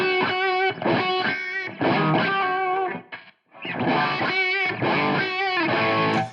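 Heavily distorted electric guitar chords through a Line 6 Helix Stadium XL modeling a Soldano SLO-100 amp ring out loud and sustained, with a brief break in the middle before the crunchy riffing resumes.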